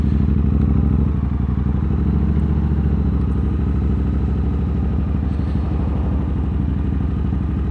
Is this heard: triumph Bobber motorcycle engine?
yes